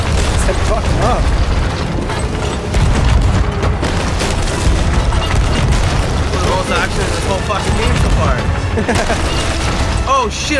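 Cannons firing aboard a ship in Sea of Thieves, heavy booms and mechanical clatter amid loud continuous battle noise, with people talking over it.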